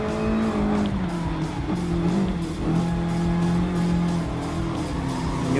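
A Ford GT LM race car in the Gran Turismo Sport video game roars continuously, its engine pitch rising and dipping through gear changes while tires squeal and skid underneath.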